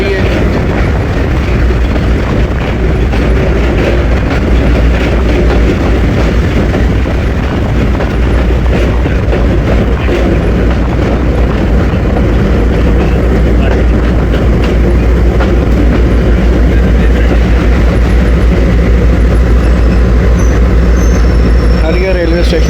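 Passenger shuttle train running on rails between Lala Musa and Sargodha, with a loud, steady close-up rumble and rattle of the carriages continuing throughout, recorded from onboard, with no pauses.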